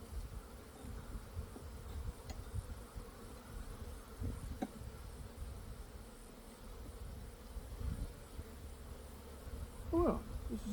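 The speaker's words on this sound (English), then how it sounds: "Don't squish any bees." Honey bees buzz around an open hive box while a super is added, a soft, continuous hum with a few louder passes close by.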